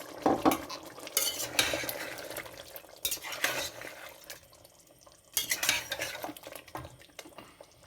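Masala chicken with tamarind pulp roasting in a kadahi, stirred in bursts with metal spoon scrapes and clanks against the pan over a low sizzle, close and uneven in loudness.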